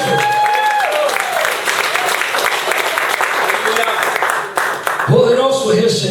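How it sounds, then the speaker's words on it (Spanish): Strong applause rises from a church congregation and carries on steadily for several seconds before tapering off, with a voice coming back in at the end. "¿Cuánto le damos un fuerte aplauso a Cristo por lo que hizo?"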